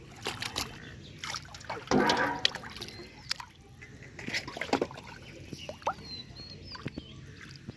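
Utensils are dipped and washed in a clear village pond, with soft splashes, trickles and light clinks scattered irregularly over quiet outdoor background.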